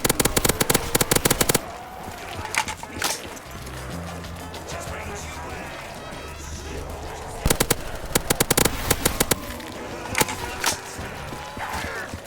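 Rapid AK rifle fire in a custom Zombies video game map on Asgard, heard as loud, close bursts of automatic gunfire at the start and again later, with quieter game sounds in between.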